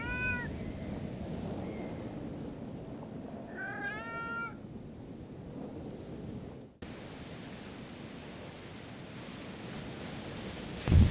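A cat meows a few times inside the spooky puzzle game Foolish Mortals, with short rising cries near the start and a clearer cluster midway, heard over a steady ambient hiss like distant surf.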